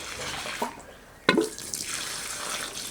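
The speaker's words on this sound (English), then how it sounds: "And now I'm just gonna add some water." Water poured from a container onto a potted plant after fertilizer, a soft trickle and splash with two brief louder spills, close by and fairly quiet.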